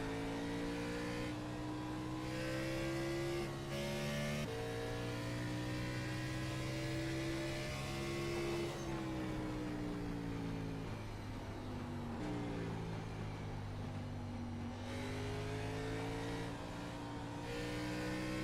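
A race car engine in a sim racing game at New Hampshire Motor Speedway hums steadily, its pitch dropping in distinct steps as gears shift down, loud and continuous with no voices.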